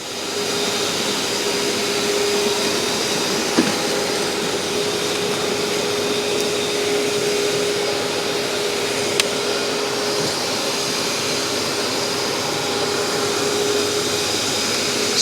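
A Numatic TT3450T floor cleaner working over an oil-trodden floor gives a steady, loud whirring motor drone with a constant tone that holds for the whole stretch, broken only by a couple of faint clicks.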